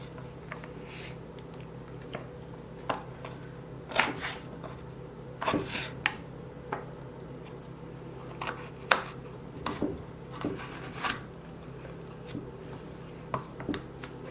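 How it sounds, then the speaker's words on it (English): A knife taps and cuts into a carrot on a board in a run of quiet, irregular clicks and thuds over a low steady hum, with no one speaking. "I'm not slicing all the way through the carrot, right?"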